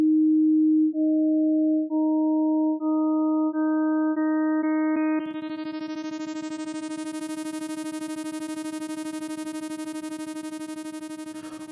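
Pure sine tones are added one at a time in MATLAB, each harmonic stepping in at higher pitch roughly every half second until a bright, buzzy sawtooth-like tone sustains steadily alone.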